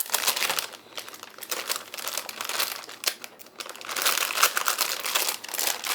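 Crinkling of a plastic Ziploc bag holding white vanilla candy wafers, a steady run of close, dense crackles and rustles over six seconds with no talk.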